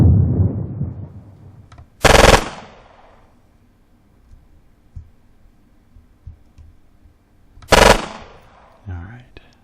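Submachine gun fire rings out in a war video game, with two loud, sharp bursts several seconds apart separated by quieter rustling and distant clatter.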